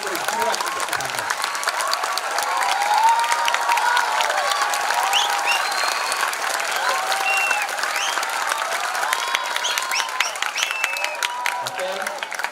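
Audience at a political talk by a speaker on santri and the PKB party, clapping in sustained, dense applause that holds steady for several seconds before thinning toward the end.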